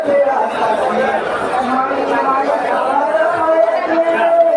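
Dense crowd chatter at a busy market with spice stalls, many overlapping voices close by and continuous, with no single sound standing out.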